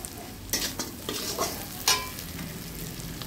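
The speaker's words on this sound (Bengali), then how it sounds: "দিয়ে এই গুঁড়ো মশলাগুলোকে দিয়ে ভালোভাবে নেড়ে চেড়ে নেব।" Chilli powder and other ground spices are stirred in a frying pan, soft sizzling broken by several distinct scrapes and knocks of the spoon, close by and fairly quiet, with no speech.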